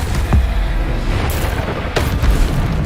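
Descendo spell cast in the video game Hogwarts Legacy, heard as deep booming impacts with sharp bursts near the start and again later over a rumbling game backdrop.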